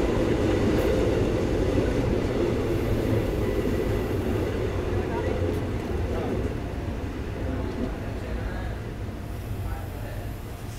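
A passenger train on the Mysuru to Bengaluru line rolls into a railway platform, its steady loud rumble and rail noise filling the scene and slowly easing off, with talk over it.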